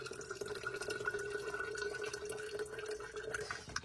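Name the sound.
water being poured from a filter into a glass bottle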